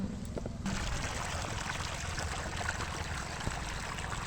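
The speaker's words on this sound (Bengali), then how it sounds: "দেখো অল্প অল্প কুসুম কুসুম গরম জল আমি দিচ্ছি" Warm water trickles steadily into a rice flour batter for chitoi pitha, a soft continuous pouring stream heard close up and fairly quiet.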